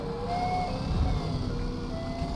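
A wailing police siren in a racing video game rises and falls at a distance, layered over a low rumbling engine drone, fairly faint and brief.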